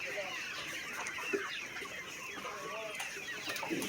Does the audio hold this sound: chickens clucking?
yes